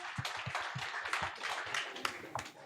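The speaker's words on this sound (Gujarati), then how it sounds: "એકવાર જોરદાર તાળીઓ થઈ જાય ઈર્ષાદ માટે" Live audience applause and clapping for a performer on a Gujarati comedy talk show stage, a steady wash of many hands with some sharper individual claps standing out, moderately loud throughout.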